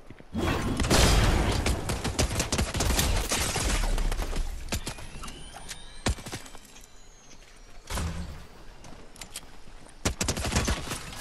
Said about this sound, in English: They're shooting behind me too, Jackson.